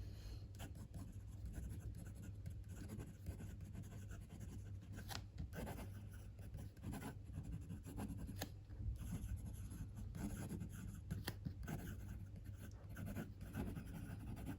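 A Wing Sung 3411 fountain pen writing on paper makes a soft, close, continuous scratching and rubbing with small strokes and pauses, quiet and without talk.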